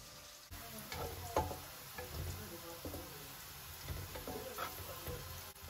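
Onions fry in a pan for beef kabuli pulao, producing a faint, continuous sizzle with scattered soft crackles and stirring sounds.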